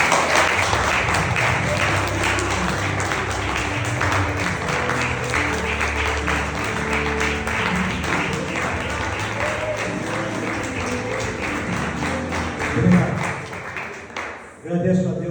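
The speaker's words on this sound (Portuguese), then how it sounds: "Você pode aplaudir o Senhor" A church congregation claps in a full, sustained round of applause, dense and fairly loud, with voices mixed in and the clapping thinning toward the end.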